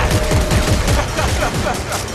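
Rapid gunfire from the Evangelizer weapon in the sci-fi shooter Dead Space 3, a dense, loud burst of shots firing continuously for about two seconds with no talking.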